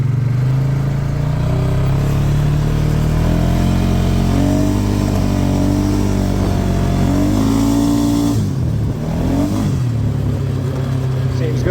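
A 2018 Polaris engine with a repaired throttle safety switch, no longer in limp mode, revs loudly and steadily, its pitch rising and falling over several seconds before dropping off sharply near the end.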